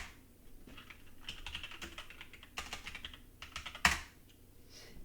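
A command typed on a computer keyboard during an Ubuntu system setup, quick soft keystrokes in a close, quiet run ending with one sharper key press, likely the enter key.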